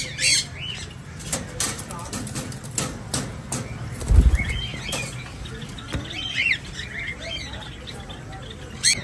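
A breeder pair of Jandaya conures in an aviary gives sharp, repeated squawks and chirps amid wing flaps and rustling, with a thump midway and an irregular, close rhythm.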